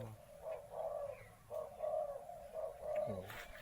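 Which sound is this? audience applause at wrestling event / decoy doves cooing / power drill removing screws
decoy doves cooing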